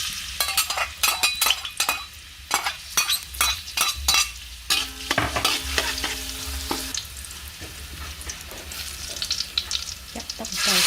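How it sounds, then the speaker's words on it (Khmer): Oil sizzles in a hot pan as a spatula stirs and scrapes, giving repeated close metallic clinks and scraping strokes over a constant frying hiss. "ដំបូងយើងចាក់ប្រេងឆាចូលតិចចឹង"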